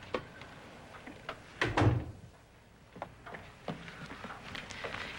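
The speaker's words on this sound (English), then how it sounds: "I'll open the door." A door is handled indoors: a quiet click and rattle, then a louder thud as it opens, followed by soft knocks, shuffles and creaks in a quiet room.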